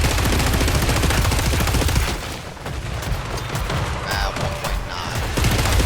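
Sustained, dense SCAR rifle fire loaded with incendiary rounds in Killing Floor 3, rapid loud bursts roaring almost continuously with a brief dip midway before the firing picks back up.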